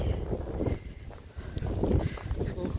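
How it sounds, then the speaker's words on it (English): Wind gusts on a foggy mountaintop along the Appalachian Trail buffet the microphone with a steady low rumble that swells and dips, briefly easing before surging again. "it's been pretty gusty with winds"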